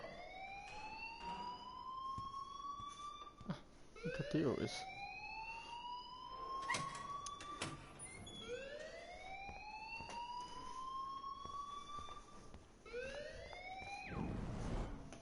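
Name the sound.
alarm ringing in the video game Life is Strange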